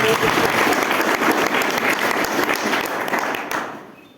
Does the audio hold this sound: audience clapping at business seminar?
yes